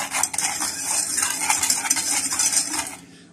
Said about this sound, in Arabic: هنقلب بقى كل المكونات دي كده مع بعض